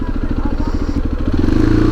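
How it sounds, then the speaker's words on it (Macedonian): A motorcycle engine runs close by at a rough, rapid, steady idle thump, then picks up slightly in pace and loudness near the end. "само да го завртам моторот"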